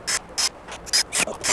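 A ratchet wrench tightens bolts and plastic clips under a Kia Carnival KA4 diesel during a DIY oil change, giving five short bursts of rapid, close clicking separated by brief pauses.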